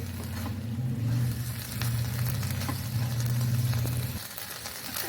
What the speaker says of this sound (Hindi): मेरा कीमा बहुत अच्छे से भुन रहा है माशाल्लाह से